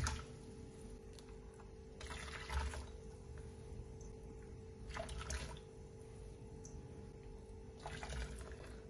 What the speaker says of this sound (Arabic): منضيف 4 اكواب مي مغلي.